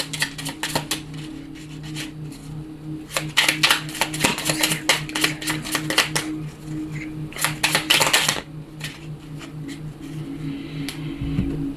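Cards from a small angel oracle deck shuffle and shift in quick bursts of dry, papery flicks and slaps, heard close and alone over a steady low hum.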